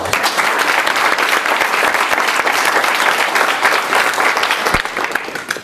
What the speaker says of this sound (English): If we could just give these two gentlemen another round of applause